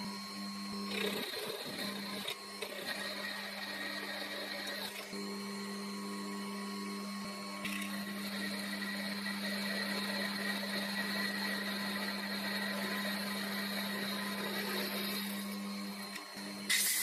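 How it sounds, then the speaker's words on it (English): An ordinary high-speed steel twist drill bores through holes in a metal backplate for a Proxxon PD 250/e lathe chuck, giving a steady whine with brief pauses and shifts in pitch between holes, fairly quiet and with no talking. "The through holes are drilled with a very ordinary high-speed steel twist drill."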